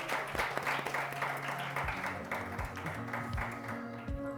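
Studio applause for guests on a Spanish radio science talk programme, a modest patter of clapping running steadily throughout under low background sound and steady tones.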